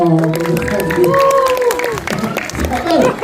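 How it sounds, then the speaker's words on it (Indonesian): Audience applause at a press conference for an Indonesian film, a short burst of clapping mixed with overlapping voices and chatter close by. "Tepuk tangan dong."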